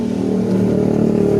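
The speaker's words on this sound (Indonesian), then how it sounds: "kita putar sedikit, itu timbul berbet-berbet" A motorcycle with a poorly tuned carburetor, its engine revved briefly and sputtering unevenly as the throttle opens, loud and close with a rough, uneven note.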